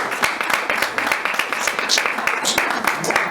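An audience at a conference in a hotel claps continuously, a dense patter of many hands that stays close and fairly loud for a few seconds.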